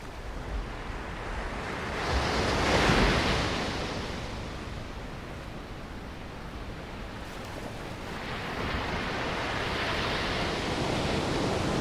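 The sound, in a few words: ocean waves on the shore of the Magdalen Islands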